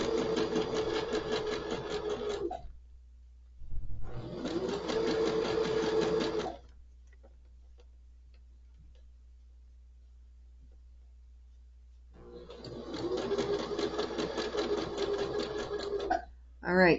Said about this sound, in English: And we just keep sewing.